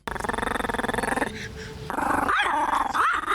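Dogs growl and bark in a rough, continuous stream, close and loud, with rapid pulsing growls breaking into harsher barks.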